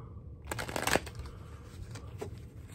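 Playing cards are shuffled close up in a short riffle burst, followed by softer handling rustles in a quiet room.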